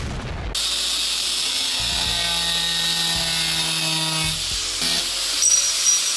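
A cutting disc grinds through the metal of a homemade hitch hauler with a loud, steady, high whine that holds for the whole stretch, its pitch shifting slightly as the disc bites.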